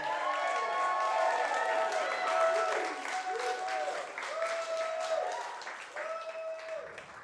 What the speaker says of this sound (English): let's give it a round of applause for Skye Hawkins!